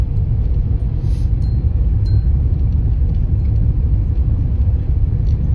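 A car cruises along a highway between Sangola, Pandharpur and Solapur, heard from inside the cabin as a loud, steady low rumble with faint rattles and clinks, no talking.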